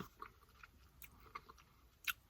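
Wild Japanese akebi fruit being bitten and chewed close by, soft wet bites and faint mouth sounds with one sharper crunchy snap near the end, quiet and without talk.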